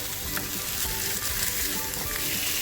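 Silverbar fish fries in a pan after being turned over, giving a dense, even sizzle with faint crackles, close and constant without any voices.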